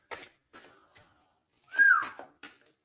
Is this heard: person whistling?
yes